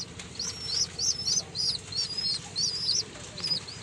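Pigeons make a repeated series of short, high chirping calls about every half second over a low, steady background rumble, with a faint flutter of wings.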